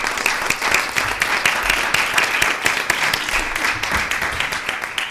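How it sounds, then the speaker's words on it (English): An audience applauds the panelists at a community inclusion event, steady dense clapping filling the room at a constant level for the whole stretch, with no voices breaking through. "huge round of applause to our panelists"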